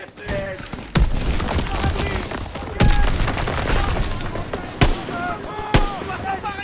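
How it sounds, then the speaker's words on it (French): Gunfire and explosions in the World War II shooter Call of Duty WWII: steady bursts of rifle and machine-gun fire with sharp, loud blasts at intervals, constant and close. "Les coups de feu, nos armes sont pas loin."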